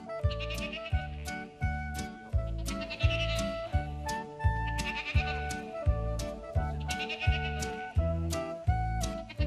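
Sheep on a farm bleat again and again, repeated calls layered over a steady rhythmic pulse that sounds like background music.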